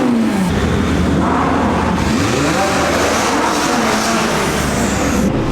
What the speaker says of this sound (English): All the supercars are just coming down and revving it.